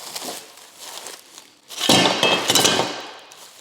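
A packet of anodized aluminum brackets and mounting hardware for a carbon kit on a Mitsubishi Evo clinks and clatters as it is handled, light metallic jingles building to a louder rattling bout partway through, close up with no speech.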